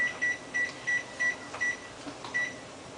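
A kitchen timer being set for cooking pasta gives a series of short, sharp electronic beeps at a regular pace, about six in three seconds, close and clear over a quiet room.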